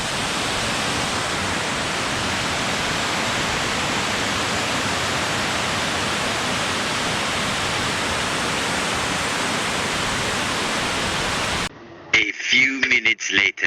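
Water released from Kuppanatham dam, opened a little at a time, rushes in a loud, steady roar for about eleven seconds before cutting off abruptly, followed by brief talking.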